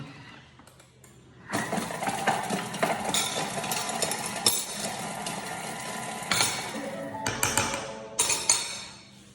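A kitchen food processor runs at speed 5 for about five seconds, blending a savoury olive and parmesan mix with pepper, cumin and salt, a loud close whirring grind starting abruptly, briefly dipping, then stopping, alone without talk.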